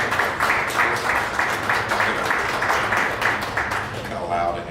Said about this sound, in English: give Ken a round of applause